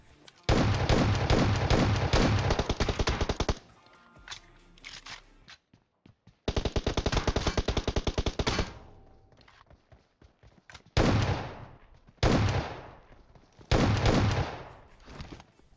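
Gunfire in the mobile shooter PUBG Mobile, including long loud sustained automatic bursts and several shorter volleys separated by brief gaps, heard alone without talk.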